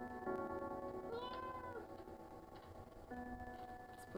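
Cat meowing from a cat video being played, several soft mews spread across the stretch, faint and slightly tinny over a quiet background.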